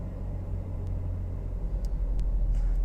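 Toyota Yaris 1.3 or 1.5 engine idling steadily just after a push-button start, a low continuous rumble heard close from inside the car, with no talking over it.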